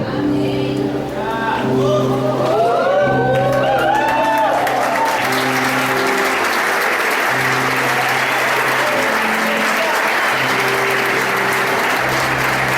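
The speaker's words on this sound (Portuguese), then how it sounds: "Eu creio que a salva de palmas deve ser bem mais forte." Congregation applause during a New Year's Eve church service, a loud, sustained wash of many clapping hands that builds after opening voices and a held musical tone, continuing steadily throughout.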